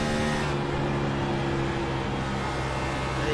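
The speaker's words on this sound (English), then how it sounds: "take a quick listen to how hard he's going to run that car in on those straights" Race car engine in the iRacing video game roars steadily at high revs down a straight, loud and continuous with no talk over it.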